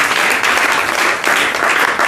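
A church congregation bursts into loud, dense applause, many hands clapping together with a brief dip midway before the clapping swells again.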